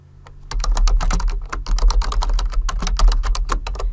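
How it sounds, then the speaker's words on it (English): Fingers type on a computer keyboard, with rapid close clicking keystrokes in an uneven rhythm that runs steadily after a brief quiet start. "I'm going to just type it in offline so you don't have to see me type it in"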